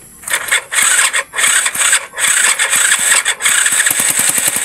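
An XRM 125 motorcycle engine with a newly wired 4-pin CDI cranks and catches, then runs loud and close with a steady, slightly uneven putter.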